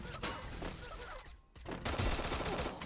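Gunfire in the mobile battle game Free Fire, rapid shots over constant game noise, with a short lull before another loud burst of firing.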